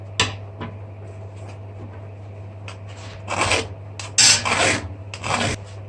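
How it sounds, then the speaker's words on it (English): Metal on a medieval kettle helm is filed by hand, with rasping strokes that start sparse and faint, then grow louder and come in a rhythmic run of scrapes over a low steady hum. "I'm going to do this by hand, by filing it out."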